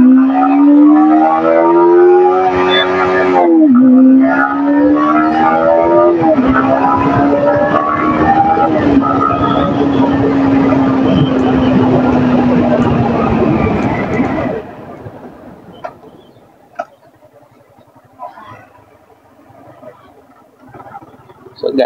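A Yamaha MT-15 motorcycle is held at full rpm in first gear, a loud, sustained, high-pitched engine whine with a brief dip, then a long steady drone that cuts off sharply, leaving quieter road noise.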